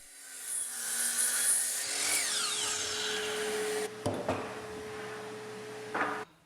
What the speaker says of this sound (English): I cut the stiles to length at the chop saw